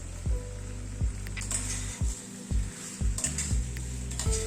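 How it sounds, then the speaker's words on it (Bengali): Chicken with kasundi mustard and chopped green chillies is stirred in a frying pan, a spatula scraping in repeated rhythmic strokes over a soft continuous sizzle, close up with no talking. "দিয়ে একটু মিশিয়ে দিচ্ছি"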